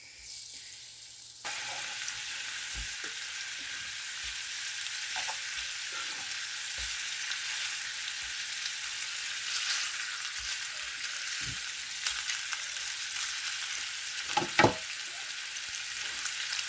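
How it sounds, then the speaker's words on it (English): Meatballs browning in a frying pan make a constant dense sizzle and spatter, with scattered low knocks and bumps as they are moved around, fairly close and steady throughout. "first step will be to get these meatballs browning"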